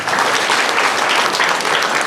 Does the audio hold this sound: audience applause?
yes